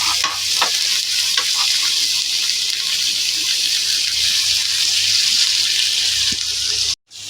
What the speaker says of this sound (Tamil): தக்காளியும் நல்லா வதக்குங்க.